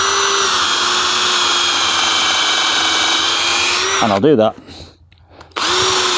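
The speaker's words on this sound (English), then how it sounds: "I'm just going to go in to this tree trunk with this drill bit at a slight angle upwards" Power drill running fast, not on hammer, boring into a tree trunk at a slight upward angle for a bug hotel, a loud steady whine for about four seconds, then a brief spoken voice and a short pause before the whine resumes.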